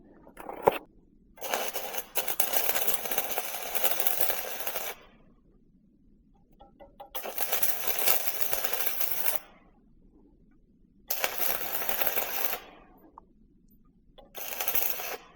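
A stick welding electrode arc struck and held for a few seconds, then struck again, giving four loud crackling, hissing bursts separated by quiet pauses to test re-ignition of the electrode.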